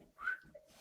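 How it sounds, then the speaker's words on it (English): A single short, soft whistle rises and fades, close by and quiet, with no talking. "I don't want to whistle too loud on the microphone."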